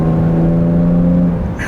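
A 2017 Jaguar F-Pace 35t R-Sport with its supercharged engine pulls hard from inside the cabin, a loud steady tone climbing and then easing off near the end.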